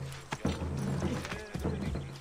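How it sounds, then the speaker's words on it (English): Horse hooves clip-clop in the Assassin's Creed video game, a steady galloping patter with a brief whinny-like tone, heard fairly close with a player voice speaking faintly at times. "can I call my horse here too?"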